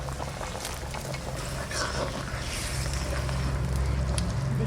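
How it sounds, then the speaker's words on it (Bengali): Potatoes boiling in a pot, a continuous bubbling rumble with a low hum and scattered soft pops, growing slightly louder toward the end. "দেখি আলু সেদ্ধ হয়েছে নাকি"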